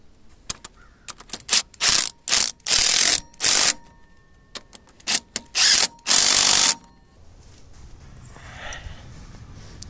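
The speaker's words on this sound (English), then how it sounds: "And now I can bolt my filter on." Ratchet wrench tightening bolts to mount a filter on farm harvesting equipment, several bursts of rapid close clicking separated by short pauses, then quieter background noise.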